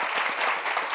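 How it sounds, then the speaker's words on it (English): A studio audience on a women-focused panel show claps in steady applause, dense and even throughout the short moment. "Give them a round of applause."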